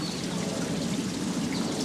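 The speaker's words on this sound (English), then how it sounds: "Now you can see that the water that's coming through here is pretty clear." Water flushes through a camper's black water tank and drain line while it is being dumped, a continuous rushing, pouring stream that stays steady and fairly loud throughout, with no talking.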